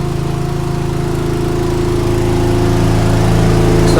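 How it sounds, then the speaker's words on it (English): Engine of a farm sprayer with a front tank and mixer tank runs steadily, a close, loud droning hum with a fast regular pulse that builds slightly in strength. "You can just hear the engine kicking in."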